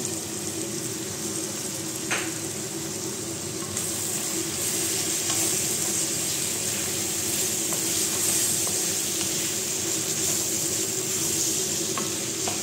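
Green beans sauté in a hot pan with a constant bright sizzle and crackle, steady and close, punctuated by a few soft clicks of stirring.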